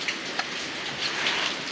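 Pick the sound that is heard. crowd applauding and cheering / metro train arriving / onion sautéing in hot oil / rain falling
rain falling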